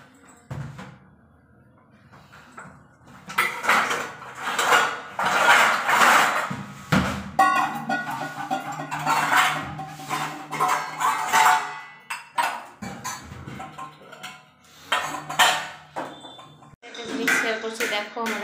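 Dishes, pots and cutlery clatter and clink in a kitchen during milk tea preparation, irregular knocks and scrapes at close range, with a person speaking intermittently.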